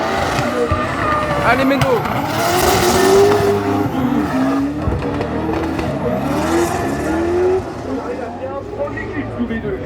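A black BMW drifts on a track, its engine revving hard with tire squeal and skidding that rises and falls throughout, while spectators talk and shout over it.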